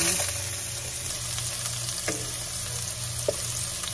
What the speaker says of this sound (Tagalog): Mainit na yung ating mantika guys. Lagyan natin ang bawang. Saka luya.